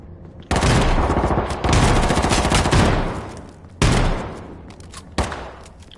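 Shotgun fire in the video game H1Z1 comes as loud, heavy blasts in quick succession, with a long roaring volley followed by two separate sharp shots, close and dominant.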